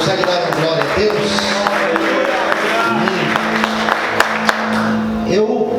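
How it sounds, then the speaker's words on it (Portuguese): Church congregation applauding during an evening worship service, steady clapping sustained throughout with scattered sharper claps, mixed with background voices and a low music tone underneath. "Você pode aplaudir Jesus nessa noite?"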